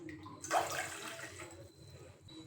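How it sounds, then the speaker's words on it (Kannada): Water being poured into a bowl while preparing North Karnataka jowar roti, a steady splashing pour of about two seconds at close range with no talking. "3 ಬೌಲಷ್ಟು ನಾನು ನೀರು ಹಾಕ್ಕೊಂಡಿದ್ದೀನಿ."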